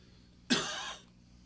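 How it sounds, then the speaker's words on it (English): A single short, close cough rising sharply out of near silence, then fading quickly. "I had to cough there for a moment"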